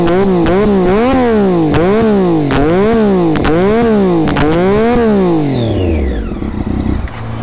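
A Triumph Daytona 675 sport motorcycle with a race exhaust revs hard and loud up close, climbing and dropping in pitch through about six sharp blips before settling back toward idle, with a voice briefly audible under the engine.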